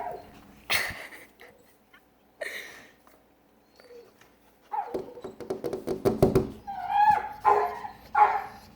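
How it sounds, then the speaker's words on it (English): A deaf dog barks loudly in a few sharp separate outbursts, then breaks into a rapid run of close, strained barks and yips that keeps going toward the end. "he can bark so loud and he can't control it"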